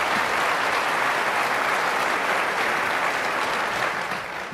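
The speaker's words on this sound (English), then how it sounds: "Applaud for that." Loud, sustained audience applause fills a theatre during a gubernatorial debate, dense clapping holding steady for several seconds before tapering slightly at the end.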